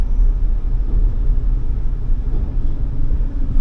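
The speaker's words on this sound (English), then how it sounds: "Trucks like that dump it out." Heavy trucks dumping asphalt for road paving, heard as a steady, loud low rumble of engines and machinery that runs on without a break and with no voices.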